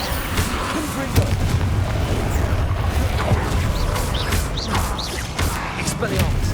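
Repeated fiery blasting-spell explosions in Hogwarts Legacy, booming and cracking amid a busy combat din of thuds and bursts, with a voice talking over the battle noise.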